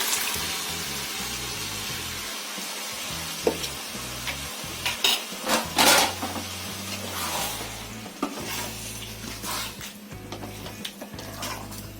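Dal tipped into a pot for vegetable sambar, with soft stirring and a light sizzle over a low background hum, a few clinks and splashy bursts scattered through.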